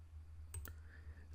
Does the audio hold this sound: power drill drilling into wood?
no